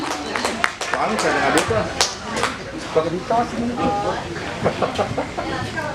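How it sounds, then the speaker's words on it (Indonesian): An Indonesian school audience at a vocational showcase event claps loudly and continuously, with sharp individual claps and a few voices and noises mixed into the crowd sound. "kasih tepuk tangan dong semuanya"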